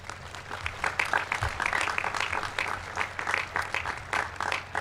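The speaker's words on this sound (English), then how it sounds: "So give them a round of applause, please." Audience applause fills a high school graduation ceremony for the Class of 2022, steady dense clapping from a large crowd sustained throughout, with faint voices murmuring underneath.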